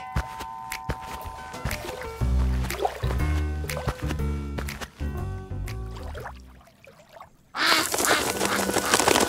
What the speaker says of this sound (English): Here the duck is coming back to see the eggs there.